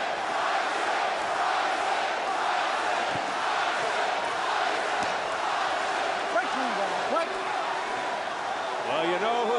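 Arena crowd at a heavyweight boxing match between Mike Tyson and Danny Williams roars steadily and loudly throughout, with an announcer talking over the sustained cheering.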